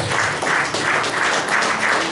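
A church congregation at a Spanish-language service claps loudly, the applause swelling in regular pulses roughly twice a second, suggesting rhythmic clapping together.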